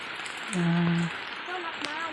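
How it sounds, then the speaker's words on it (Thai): Rain patters in a continuous hiss while a person talks over it in short phrases. "ฝนตก"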